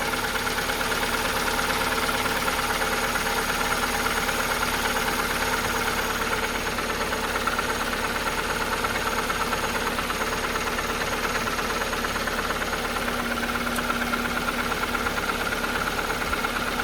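Astra H with a Z16XEP twinport engine idling steadily throughout, with a faint light ticking from the injectors riding over a continuous mid-range drone and hum, no talking.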